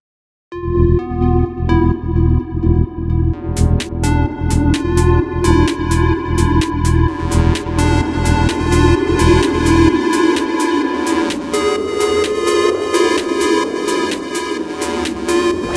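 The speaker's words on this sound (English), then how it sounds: "I'm gonna just find a preset that has a bit of like very aggressive chorus" Synthesizer preset soaked in heavy, aggressive chorus plays a rhythmic, pulsing pattern with a thick low end, bright transient hits joining after a few seconds, then the bass drops away and a swirling, shimmering sustained texture continues alone, loud and close.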